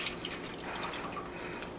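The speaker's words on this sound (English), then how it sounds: "go ahead and pour your milk into the pot" Milk pours into a pot with a soft, steady liquid splashing and trickling, close and fairly quiet, continuous throughout with no speech.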